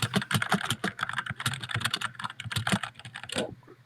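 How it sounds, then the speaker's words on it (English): Rapid, close clatter of fingers typing on a computer keyboard, a busy run of sharp key clicks and bursts that stops abruptly near the end, with no talking. "now we just hear you like hacking on your keyboard like hell"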